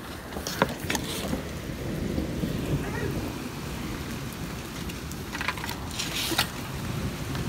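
Rain falls steadily during a tornado storm, with low rumbling thunder and occasional sharper crackles, heard at moderate distance with faint voices in the background.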